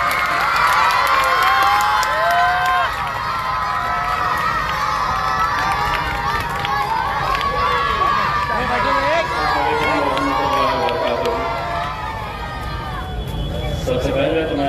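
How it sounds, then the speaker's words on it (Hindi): A large crowd at a political public address in Aurangabad cheers, whoops and claps to welcome the speaker, loud and close, with shouting voices and excited chatter mixed in for a long stretch. "जोरदार तालियों से इस्तकबाल करें।"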